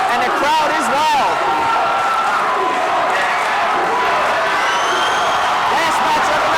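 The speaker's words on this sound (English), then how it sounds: "And the crowd is wild." Crowd cheering and whooping in a gym at a high school wrestling match before the heavyweight bout, a loud, continuous roar with someone talking over it.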